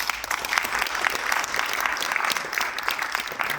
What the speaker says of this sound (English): I think we should give a big applause to Professor FUZZ-IEEE.